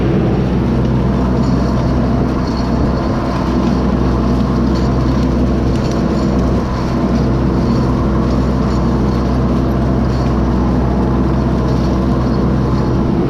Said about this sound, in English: I wish my chisel plow was wider, but this uses up all 100 horsepower on the 5 shank.